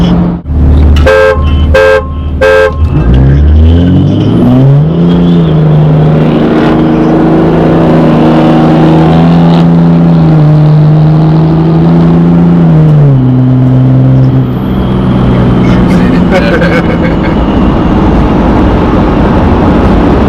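A loud engine revs hard and holds high, with tires spinning and a couple of horn toots at the start, from a 2005 Cummins truck or Dodge Challenger 392 Scat Pack.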